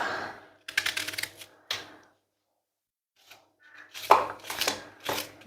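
Onion chopped by hand without a cutting board, for an Armenian onion dish, heard as quick bursts of close knife strikes in two rapid runs with a quiet pause between.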